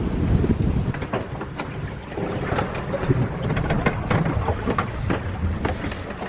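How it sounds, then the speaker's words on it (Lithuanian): Wind buffets a sailboat under way off the Portuguese coast, a steady rough roar with gusts and splashing water beneath it, loud and constant throughout. "Turim vėją, turim bangos"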